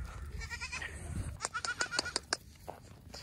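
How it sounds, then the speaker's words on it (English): A mother goat and her kid bleat in a quick series of short, close, pulsing cries over low background murmur. "This is a mama goat and a baby goat."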